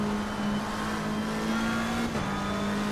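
A BMW race car engine in the racing game Assetto Corsa Competizione drones steadily at the Zandvoort circuit, holding a constant loud tone with a brief pitch dip partway through.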